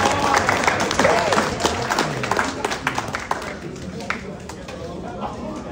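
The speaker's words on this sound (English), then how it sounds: "One more round of applause for them." Audience at a high school football awards banquet bursts into steady applause, dense clapping with crowd chatter and a few voices mixed in, loud and sustained throughout.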